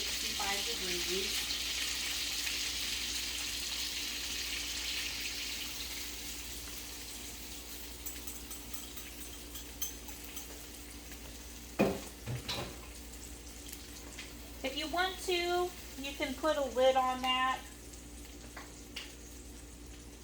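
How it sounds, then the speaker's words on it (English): Chicken in a light bacon cream sauce simmers in a skillet with a soft, steady sizzle that is strongest at first and then fades. A person talks over it, and a few clinks of utensils follow. "so while that's sizzling in there, it's going to thicken up a little bit."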